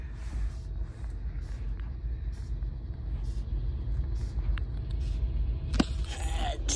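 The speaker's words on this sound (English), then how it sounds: "Tanker train." Tanker train rolling past at a crossing, a steady low rumble of wheels with periodic clicks from rail joints and a brief louder squeal or clank near the end.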